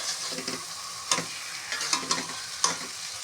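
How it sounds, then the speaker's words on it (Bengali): Mashed mankochu taro being stirred as it fries in mustard oil, with a soft continuous sizzle broken by several sharp scrapes and taps of the spoon against the pan. "তো এখানে আমি হচ্ছে হালকা করে নেড়ে নিচ্ছি একদম সুন্দর করে।"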